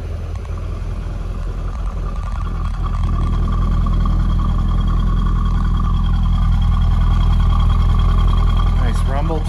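A 2004 Chevrolet Corvette coupe idles with a deep, steady low rumble that swells slightly, accompanied by faint clatter and brief background voices.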